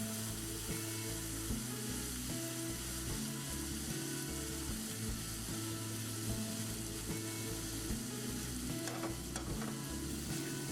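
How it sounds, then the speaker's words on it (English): Risotto rice in a pan gives a faint, steady sizzle as white wine goes in, with soft stirring scrapes and occasional clicks over a low background hum, no talking. "that's when we're gonna add the white wine. This is how it should sound like."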